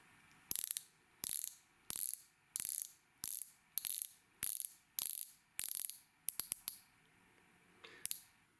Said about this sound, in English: This is how the bezel sounds and works.